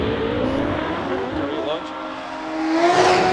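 A race car engine revs hard and climbs in pitch, loud and close, with a rising whine toward the end, at a hillclimb championship event at Doune.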